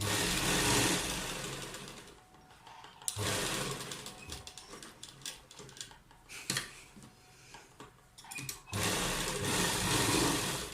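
A sewing machine stitches along the edge of a kurta neckline beside buckram, running in steady loud bursts with brief pauses and stops between runs.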